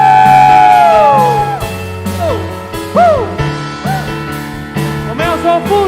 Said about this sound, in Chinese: 给我们神的一个最大的掌声加呼喊